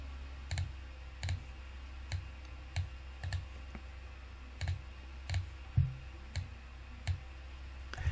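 Mouse clicks from moving movement chits in a Vassal tabletop wargame module: a steady run of about a dozen sharp, isolated clicks spaced roughly half a second apart, close and crisp against a quiet background hum.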